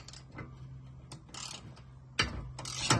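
Ratchet wrench with a 13mm socket loosening a bolt on a damaged Honda CR-Z, giving short bursts of ratcheting clicks separated by pauses, close and fairly quiet with no talking.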